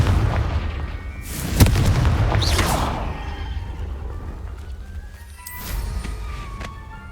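Booming blasts of the Confringo explosion spell in the Hogwarts Legacy video game: a sharp, heavy burst, a second blast soon after, then another rumbling explosion later, each with a fading tail.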